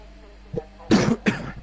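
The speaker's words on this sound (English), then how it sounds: "Excuse the coughing." Two sharp coughs in quick succession, close and fairly loud, preceded by a brief throat sound.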